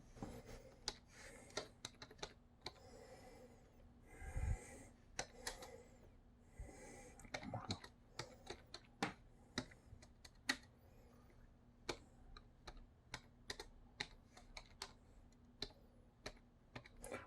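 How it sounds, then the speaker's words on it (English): Slow, irregular keystrokes tap on a computer keyboard, sparse single clicks with pauses between them, close and quiet. "let me one finger typing while I'm making a video"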